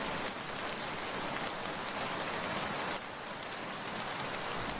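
Steady rain falling as a cartoon sound effect for a cloudy day in a Bengali village story, a dense, even hiss of drops that holds loud and unbroken throughout with no voices.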